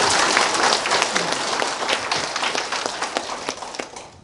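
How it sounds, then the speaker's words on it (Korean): An audience at a family clan gathering in a banquet hall applauds, loud dense clapping that gradually thins out and fades toward the end. "이분들께 다시 한번 고마운 박수를 한번 드립니다."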